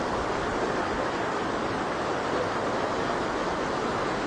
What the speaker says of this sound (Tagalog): So yun, lakas ang agos.